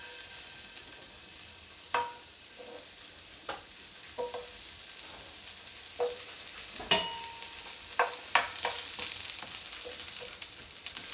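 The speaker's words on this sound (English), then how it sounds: "I'm just gonna throw in the halved onions and brown them on both sides" Halved onions brown in a hot cast iron pan, a continuous sizzle punctuated by repeated sharp pops and spits, close and fairly loud, with no talking.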